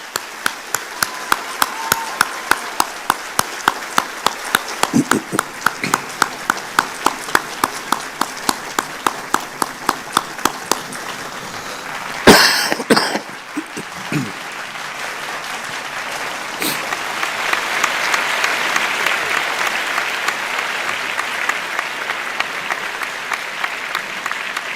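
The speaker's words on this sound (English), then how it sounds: "Please join me in a round of applause" An audience at a school board meeting breaks into applause, starting with a steady rhythmic clap that swells into a broader round of clapping, with a brief loud bump midway.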